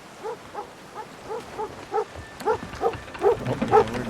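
Dog barking repeatedly in stormy weather in Sea of Thieves: a steady string of short, evenly spaced barks or yelps that grow louder and closer toward the end, over a low rumbling wind-and-sea background.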